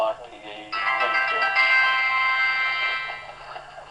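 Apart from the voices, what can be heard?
mobile phone ringing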